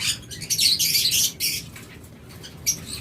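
Lots of high-marked lutino lovebirds with red eyes chatter in loud, overlapping shrill chirps close by, fading into sparser calls and then one more burst.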